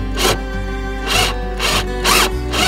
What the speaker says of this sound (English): And then we take and add screws in the redwood mud sills.